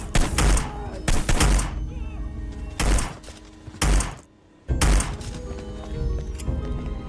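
Gunfire in the video game Hitman: Blood Money on Switch, with several loud, booming shot bursts spaced across a few seconds and a short silent gap between them.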